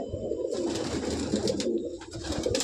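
Soft, low cooing of young pigeons close by in a loft, a steady murmuring hum with faint higher chirps mixed in, no voices.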